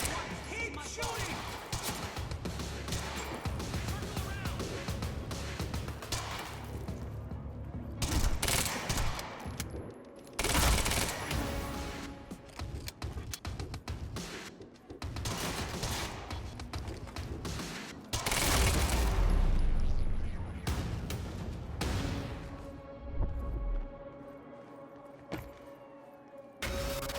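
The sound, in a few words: gunfire in the video game Quantum Break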